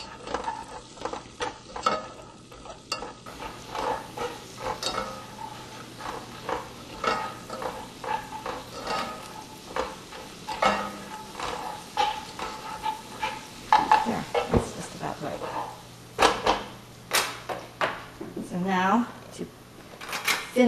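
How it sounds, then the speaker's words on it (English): Walnuts toast in bubbling, browning butter with a soft, continuous sizzle and scattered pops and clicks, mostly heard beneath a person talking throughout. "starts to bubble up in the butter and the walnuts get a little toasty"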